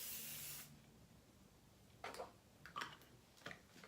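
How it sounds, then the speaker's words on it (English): A burst of hair holding spray hisses from an aerosol can for about half a second at the start, followed by quieter, scattered clicks and brief rustles. "Holding spray"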